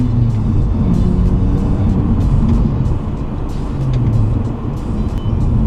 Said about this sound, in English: Rolling start in first gear.